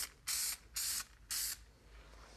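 Dupli-Color vinyl and fabric spray paint hisses from an aerosol can in three short, sharp bursts, each about half a second, with quiet gaps between them and no talking.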